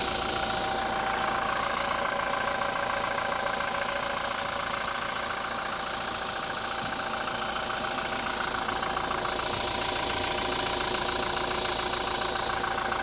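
A 2.4-litre turbo diesel engine in a 2017 Toyota Revo 2.4J Prerunner pickup idles steadily and close by, with a constant low rumble and diesel clatter running unbroken throughout, no voices.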